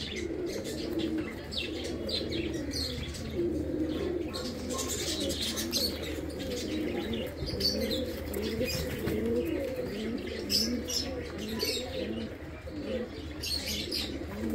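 Teddy pigeons coo in soft, repeating low calls, with chirps and rustling close by throughout.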